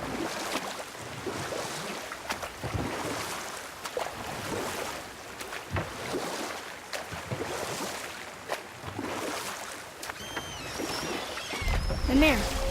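A small boat rowed through a channel in God of War (2018), with regular oar strokes splashing every couple of seconds over lapping water and wind, while voices talk over it throughout.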